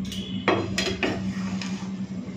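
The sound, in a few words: lid being taken off a cooking pot of pulao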